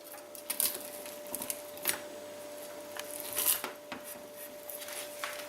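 A knife cuts through a freshly baked pizza into four pieces, making several short, quiet crunchy scrapes and rasps at close range with small pauses between strokes.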